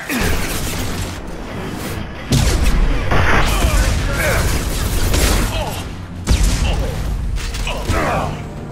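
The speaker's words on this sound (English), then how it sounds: "Blue Suns and Borgia shooting anything that moves" Blue Suns mercenaries open fire in a Mass Effect 2 battle, with loud, sustained bursts of gunfire, booms and mechanical clatter that continue steadily and swell in waves, mixed with voices.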